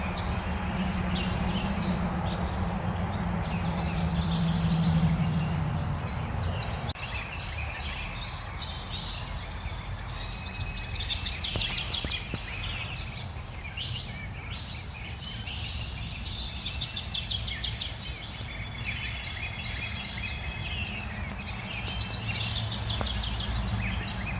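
Birds singing in a shade garden, continuous busy chirps and calls at moderate distance, including gobbling fowl-like calls, over steady outdoor background noise.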